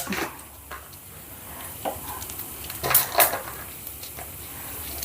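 Urad dal, mustard seeds and cumin crackle in hot oil as a tempering for an okra fry, with a soft sizzle, a brief burst of sharp popping midway and light stirring clinks nearby.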